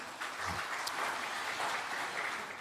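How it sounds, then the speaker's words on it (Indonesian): Audience clapping at a PDI Perjuangan party event at the DPP office in Jakarta, a dense, steady patter of many hands that fills the short moment without pause. "tepuk tangan"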